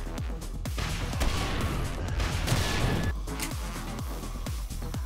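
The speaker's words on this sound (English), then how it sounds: "we can just use the rocket launcher to do some cleanup with the frag grenades" Rocket launcher blasts and frag grenade explosions in the 7 Days to Die game, a rapid series of loud booming crashes layered over a continuous roaring rumble, no talking.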